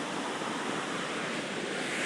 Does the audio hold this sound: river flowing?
yes